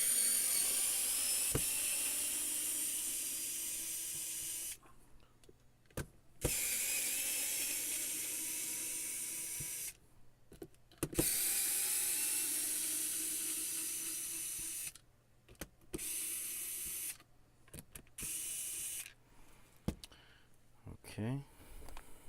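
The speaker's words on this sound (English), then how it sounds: "Will my power screwdriver fit down in there?" A power screwdriver whirs in long, steady runs broken by short pauses while driving screws into the disc assembly of a Young Living Aria diffuser, close and fairly loud.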